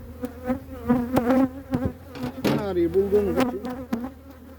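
Honeybees drone steadily and close up while a colony is moved from an old hive into a new one, the buzz layered with brief handling knocks and a short stretch of someone talking over it.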